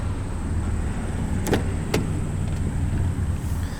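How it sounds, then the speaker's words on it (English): Low, steady engine rumble of an idling 2021 Kia Forte GT exhaust, with a couple of brief clicks partway through; no talking. "Just look at that exhaust. It honestly sounds really good for what it is."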